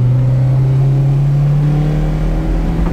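Honda Civic EJ1 with a VTEC engine, an N24 race build at the Nürburgring, revs steadily and loudly up close, a strong continuous engine drone with rising pitch and no talking.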